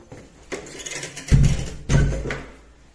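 An apartment door in a fourth-floor flat is swung shut, giving a solid low thump followed by a second thud, fairly close and loud against a quiet room.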